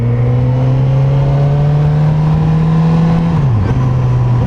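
A 2019 Suzuki GSX-S 1000F motorcycle moving off on the clutch with no throttle, a loud steady engine drone with a close low hum and a brief dip in pitch near the end, heard alone.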